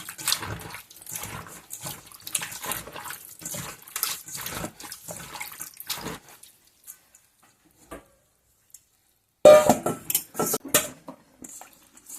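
Vegetables rinsed in water for Isan-style fermented pickles, with clattering dishes and splashing for six seconds, a pause with faint knocks, then a loud burst of splashing and clinking near the end.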